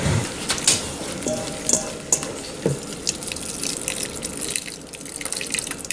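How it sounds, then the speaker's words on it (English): Water splashes and trickles into a container while preparing fresh coconut, with irregular drips and bubbling, fairly quiet, with small clinks now and then. "you go ahead and you pour the water in"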